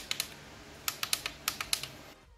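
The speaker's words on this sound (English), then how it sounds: "these buttons are so satisfyingly clicky" Clicky buttons on a DIY gaming console built from an old laptop, a run of about ten crisp, light clicks in small uneven groups, close and quiet, ending in near silence.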